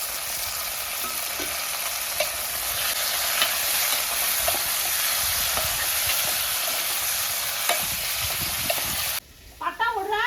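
Dried mango and brinjal vattal sautéing in hot oil for a tamarind kuzhambu, a steady dense sizzle with occasional stirring clicks, cutting off near the end into a quieter moment with a brief voice.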